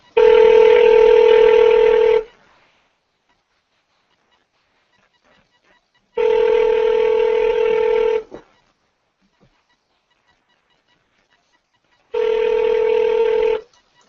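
A phone call ringing out toward voicemail: three long, steady electronic rings of about two seconds each, separated by roughly four-second silences, clear and alone.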